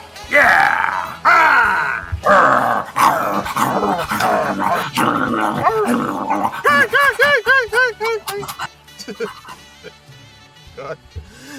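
People imitate dogs with gruff barks, grunts and growls, loud and close, trading rapid bursts that give way to a string of higher yelping whoops before the noise tapers off.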